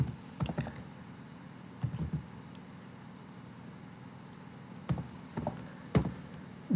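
A file name is typed on a computer keyboard in scattered, sparse clicks, with small clusters of keystrokes separated by long pauses over a faint steady room hum, close but quiet.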